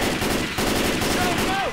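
Sustained rapid gunfire in a modded game of Left 4 Dead 2, loud, dense and continuous automatic shooting, with a faint voice in the mix.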